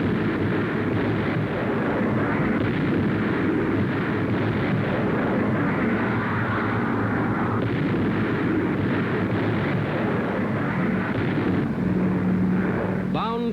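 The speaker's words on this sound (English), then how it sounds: "500-pound demolition bombs landing directly on the target" Heavy 500-pound demolition bombs blast a Nazi airfield in Holland in 1944, a continuous thunderous rumble of explosions and roar, dense and loud, heard as a crackly old wartime newsreel recording.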